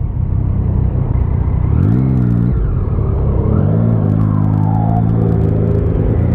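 Motorcycle with a 77-horsepower engine riding along a road in first gear, engine droning loud and steady with rising pitch sweeps as it revs, plus continuous road rumble and passing traffic.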